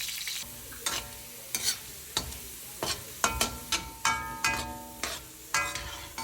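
Potatoes fry in oil in a pan for pork afritada, with a soft background sizzle punctuated by sharp, irregular knocks and scrapes of a spatula, several in quick succession, close and fairly quiet, with no talking.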